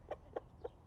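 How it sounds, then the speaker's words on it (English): A rooster among several hens in an enclosure at Lincoln Park Zoo, heard as three short, evenly spaced clucks, faint and fairly close, with no talking over them. "He's the rooster, and then there are a lot of females here too."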